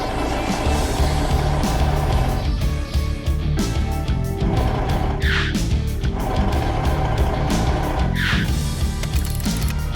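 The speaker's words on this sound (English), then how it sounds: "As the truck drives forward, its wheels suddenly sink." A truck drives forward through deep sand with continuous, loud engine rumble and grinding, wheels labouring as they sink, with brief bursts of higher-pitched strain twice in the middle.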